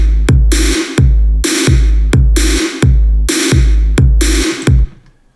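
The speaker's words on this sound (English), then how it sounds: "is come up with a snare and kick, which sounds like this." Electro techno drum samples: a heavy layered kick and a sharp snare trade hits in a steady, punchy loop of about six alternating beats, loud and alone, ending with a fading tail.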